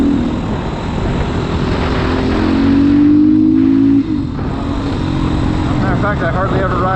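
A GPX Moto FSE300R dual sport motorcycle ridden on pavement, its engine droning loud and close with a rise and dip in revs, under steady wind noise.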